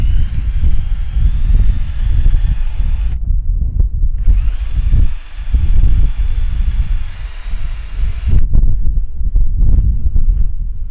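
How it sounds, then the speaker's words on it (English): A power drill whirs in two long bursts with a short pause between, steady high-pitched motor whine over rattling low thumps, drilling at an angle while fitting lawn mower wheels to a grill. "I was not properly drilling right."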